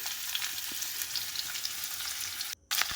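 Vegetables fry in oil with neem leaves in a pan, a constant bright hiss of sizzling with a few soft stirring scrapes and one brief dropout, close and without speech.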